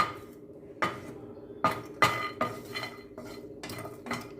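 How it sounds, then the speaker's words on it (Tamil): Spices being dry-roasted in a bare pan with no oil, heard as scattered metallic clinks and scrapes of a spoon or spatula against the pan, several sharp knocks in an uneven rhythm over a low background hum. "இந்த பொடி வகைகளுக்கெல்லாம் நம்ம எண்ணெய் விடக்கூடாதுன்னா எண்ணெய் இல்லாமல் வெறும் பேனில் தான் வறுக்கணும்"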